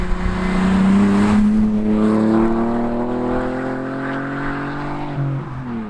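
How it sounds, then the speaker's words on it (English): Cars with stock and backbox-delete exhausts rev and pull away from a standstill, one engine note climbing steadily in pitch, loud and near, then easing off as it fades slightly. "that was us revving the cars, doing a acceleration from standstill"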